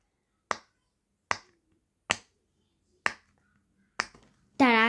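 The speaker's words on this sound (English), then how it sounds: "let's pop some so you guys can hear the amazing, beautiful sound" A silicone pop-it fidget toy is pressed five times, each sharp, close pop spaced about a second apart in otherwise near-silence, followed by a brief tonal voice at the end.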